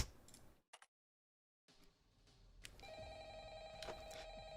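A telephone rings in the Five Nights at Frickbears 3 video game, a steady electronic ring with layered tones that comes in after a brief cut to silence and keeps going alongside faint clicks.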